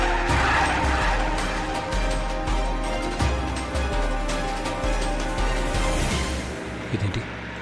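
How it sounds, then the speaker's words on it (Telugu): A car with failed brakes skids out of control, a long sustained tire screech over engine noise and dramatic music, with a brief thud near the end. "బ్రేక్ పడట్లేదు, కార్ కంట్రోల్ అవడం లేదు"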